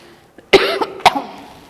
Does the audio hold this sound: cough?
yes